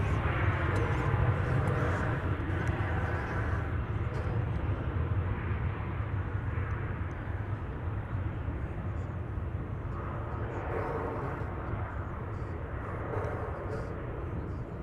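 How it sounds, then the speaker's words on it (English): An American Airlines Boeing 787-8 Dreamliner at DFW Airport gives a loud, steady jet roar that holds for the whole stretch, easing slightly as it goes, with a voice talking over it. "it's American Flight 175. It's a 7878 Dreamliner"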